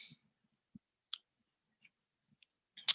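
A few sharp, isolated computer mouse clicks, dry and close, spaced irregularly across a quiet background with no talking, as a link in Office 365 is clicked open.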